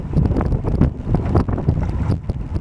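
Steady wind buffets and roars over a small motorboat heading slowly straight into the wind while setting a race mark, loud and continuous with gusty surges.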